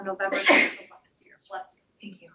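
A single sharp sneeze bursts out during a district advisory board meeting, loud and close, surrounded by brief spoken remarks before and after.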